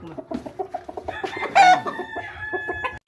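Several chickens cluck in a steady, close run of short calls, with a louder squawk or crow-like burst partway through. They are being delivered by road from Sta. Rosa, Nueva Ecija to Calasiao.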